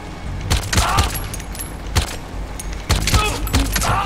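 Gunfire in the video game Metal Gear Solid V: Ground Zeroes: several sharp shots ring out in short scattered bursts over a low rumbling game background, with brief metallic clatter between them.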